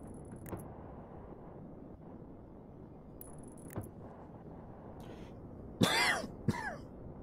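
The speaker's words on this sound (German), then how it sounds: "Entschuldigung, dieser blöde Husten." A man coughs a few times, sharp and hoarse near the end, after a quiet stretch of faint background hum and small clicks.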